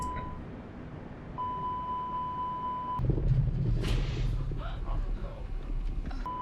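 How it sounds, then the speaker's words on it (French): A steady electronic cockpit alarm tone in a flight simulator beeps on and off over a low engine hum and wind after a bird strike, with a jolt of noise midway as the rumble grows louder. "J'éteins les alarmes."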